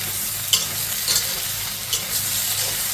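Smoked pork, Naga style, frying in oil, a continuous close sizzle with a few light scrapes and taps of a spoon stirring the meat, no talking.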